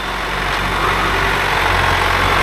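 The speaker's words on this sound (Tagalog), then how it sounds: "Napakalaki ng ating traktora na to, kaya kaya niyang bungkalin at kaya niyang patayin itong mga tambuan natin." A large farm tractor runs steadily in a field during tilling of reed-choked ground, its engine a continuous loud rumble with no pauses and no talking.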